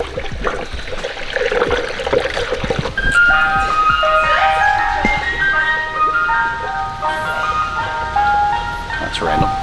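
An ice cream truck plays its tinkling melodic jingle steadily for several seconds at moderate distance, mixed with outdoor noise and a low motor rumble.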